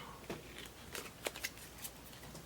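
Soft, close rustles and flicks of Arkham Horror game cards being handled and shuffled, a few sharper snaps standing out against a quiet background.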